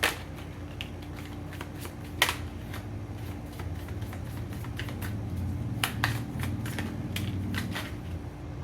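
Tarot cards being shuffled by hand, a series of soft riffling and snapping clicks in irregular bursts, close and fairly quiet over a low background hum.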